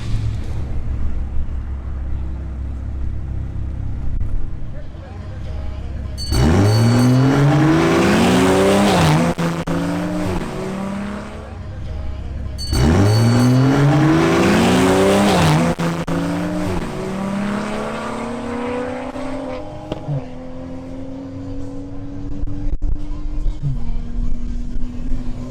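Two BMW M340i xDrive cars duel in a timed race, their engines rising through the gears in two loud passes with tire squeal, fading to a lower steady engine drone between and after.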